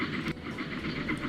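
A train running in Transport Fever 2 gives a steady rolling rumble with soft rail clatter and hiss, holding at an even level for a moment with no talk over it.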